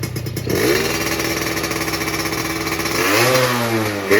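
A used off-road dirt bike engine idles with a rapid, loud chugging, then revs up near the end with a rising whine, close by.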